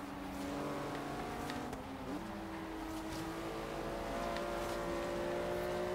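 A Porsche driven in the racing game Forza Horizon 3, its engine droning steadily at a sustained, fairly loud level, pitch shifting slightly as it accelerates through a tight corner, with no talking.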